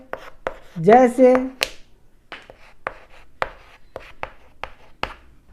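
Hindi grammar example written on a classroom board, a series of short, sharp taps and scrapes spaced through the clip, with a brief vocal sound near the start.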